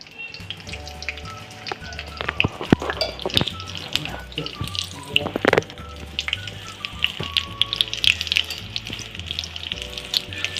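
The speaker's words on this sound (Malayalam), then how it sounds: "നമുക്കിതും കൂടെ ഒന്ന് പൊരിച്ചെടുക്കാം കേട്ടോ" Oil sizzles steadily as egg fritters deep fry, with crackling pops and occasional clinks of a utensil throughout.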